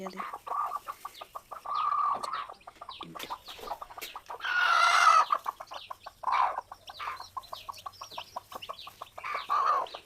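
Newly hatched chicks and adult chickens at a rural home make repeated high peeping calls with bursts of clucking, one louder squawking stretch in the middle, close and continuous.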